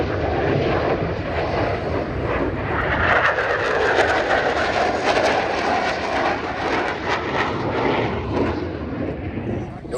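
USAF Thunderbirds F-16 jets flying arrival maneuvers over the 2026 Sun n' Fun Airshow in Lakeland, a loud, continuous broadband jet roar that holds steady throughout with slight swells as the aircraft pass.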